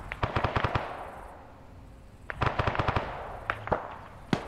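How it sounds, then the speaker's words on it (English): Close gunfire in bursts: a rapid volley of sharp shots, a lull, then another cluster followed by a few scattered single rounds, loud and near with no talking over it. "Fire coming from 339. Ooh, that was a close round."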